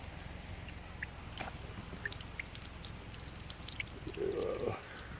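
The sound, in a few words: spring water flowing out of the ground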